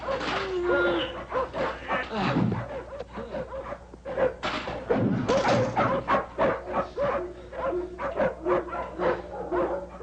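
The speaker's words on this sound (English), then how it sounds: "The cop chases him through a kennel as they climb over cages of snarling dogs." Snarling, barking and whimpering dogs in kennel cages during a chase scene, a continuous close chorus of yips and barks with some voices mixed in.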